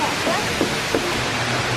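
A waterfall roars with a constant broad rushing wash, loud and close, while voices talk faintly underneath.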